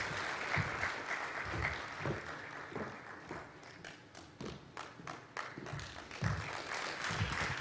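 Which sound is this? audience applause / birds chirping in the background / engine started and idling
audience applause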